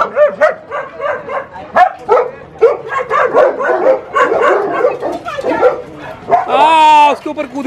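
Several dogs, including a golden retriever, a Labrador and a German Shepherd, yip and bark excitedly in Lonavala, with a high whining yelp near the end. Near, lively human chatter runs over them throughout.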